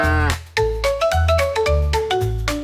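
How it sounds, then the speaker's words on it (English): A cow moos, rendered as loud, sustained tonal lowing calls over a steady musical backing in a children's farm-animal lesson, repeated several times in close succession. "Moo Moo, the cow."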